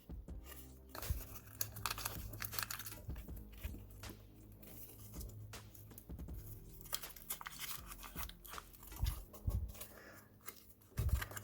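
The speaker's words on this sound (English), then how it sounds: "So sometimes what I'll do is I'll try to peel it back, and then I'll just fold the tape over." Masking tape peeled back and folded over while prepping a car engine bay for paint, heard as close, irregular crinkling and tearing rustles with scattered sharper snaps over about eleven seconds, with no talking.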